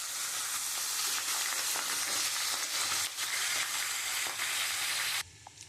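Katla fish heads frying in hot oil give a loud, steady, dense sizzle with a few crackling bursts, cutting away to much quieter sizzling near the end.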